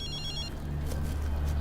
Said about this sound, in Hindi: फोन नहीं उठाना, इसमें बम है।